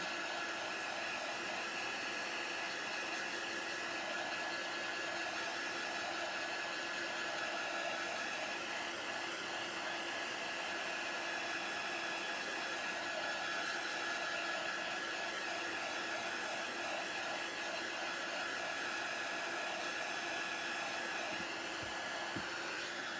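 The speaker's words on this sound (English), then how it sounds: "I am going to use a heat tool to dry this" A heat tool blows a steady, loud, unbroken rush of hot air to dry a painted craft layer on a bullseye sign, running continuously from start to finish with no talking.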